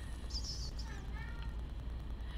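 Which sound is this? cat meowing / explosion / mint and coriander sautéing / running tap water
cat meowing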